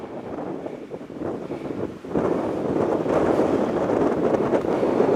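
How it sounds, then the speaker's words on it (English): Strong wind buffets the microphone on Southend Pier, a long seaside pleasure pier, as a continuous roaring rush that swells and grows heavier partway through, with no voices. "windy."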